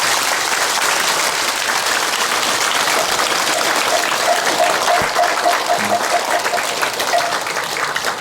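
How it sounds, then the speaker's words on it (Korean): Sustained applause from the congregation at a Buddhist eye-opening consecration ceremony fills the hall, steady and fairly loud throughout, with a brief low thump partway through and faint voices beneath. "서로 좀 박수 좀 부탁드리겠습니다."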